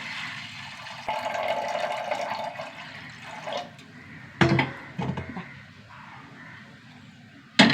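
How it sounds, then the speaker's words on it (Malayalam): Water pours from a vessel into a pressure cooker while making parippu curry, giving a close, steady splashing stream, followed by a few sharp metallic clanks of pots and lids. "വെള്ളം ഒഴിച്ച് കൊടുക്കുക."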